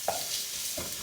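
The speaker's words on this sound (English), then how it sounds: "we're going to just fry them lightly, frying off the spices" Turmeric, coriander and other spices fry lightly in oil in a pan for jeera potatoes, giving a steady, soft sizzle with two quick stirring scrapes, close up and with no talking.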